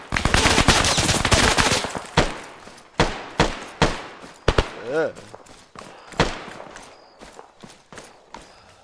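Gunfire in the military-simulation video game Arma 3: a loud, sustained automatic burst lasting about two seconds, then roughly ten separate sharp shots with echoing tails, heard close, with faint voices underneath.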